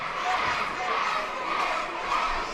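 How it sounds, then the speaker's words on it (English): Wrestling fans at an East Coast Pro Wrestling show cheer and shout for Zach Doyle, a steady roar of crowd noise with excited voices rising and falling, fairly close and continuous throughout. "the crowd here trying to get behind Zach Doyle, trying to urge him back into this matchup"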